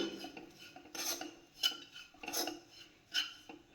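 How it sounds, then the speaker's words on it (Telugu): Dry coconut roasting in a kadai, a spatula scraping and clinking against the metal pan in several distinct bursts of stirring, close and fairly quiet, with no talking. "ఫస్ట్ కడాయిలో కొబ్బరి వేసుకొని ఇలా పచ్చిదనం పోయే వరకు వేయించుకోవాలి."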